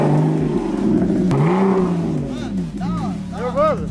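A Porsche car with about 30,000 km on it runs with a steady engine drone that swells in a brief rev, while people talk close by over it.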